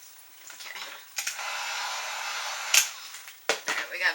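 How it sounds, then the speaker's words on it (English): A heat gun blows a steady broadband hiss while it heats a foam mask piece, running for a few seconds with short breaks and faint handling clicks around it. "I'm gonna use my heat gun."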